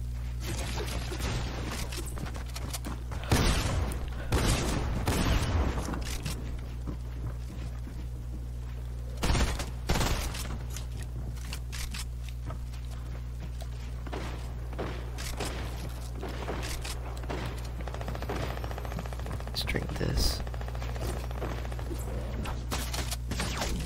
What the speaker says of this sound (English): And now I'm getting shot from somewhere else.